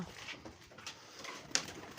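Gola pigeons at a pigeon-flying contest give faint, soft coos over a low outdoor background, with one brief sharper call near the end.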